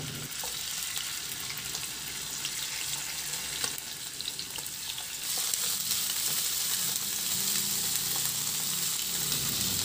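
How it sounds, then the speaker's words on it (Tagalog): Chicken wings searing in hot oil in a pan (kawali), a steady dense sizzle throughout that grows slightly louder and brighter about halfway, with faint clinks of stirring. "Magpainit na rin ako ng mantika sa kawali at i-sear ko na rin yung chicken wings."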